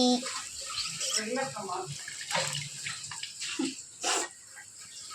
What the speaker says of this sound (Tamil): இப்போ இது வந்து புளி தண்ணி.